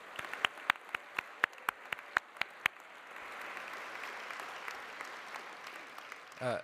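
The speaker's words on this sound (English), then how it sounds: "please give them a big round of applause for all of the incredible work that they've been doing" Scattered audience claps at a company awards event, a few distinct sharp claps in a loose rhythm at first, then blending into a softer continuous applause from a crowd further back.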